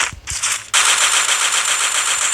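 AUG assault rifle in a video game: a few quieter shots give way to a loud, sustained automatic burst that rattles on without a break.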